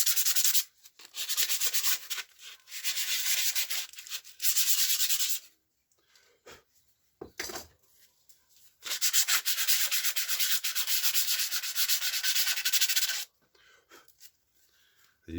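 A terrain piece for tabletop wargames is scratched and sanded by hand in repeated bursts of dry, hissing rubbing strokes, close and moderately loud, separated by short pauses.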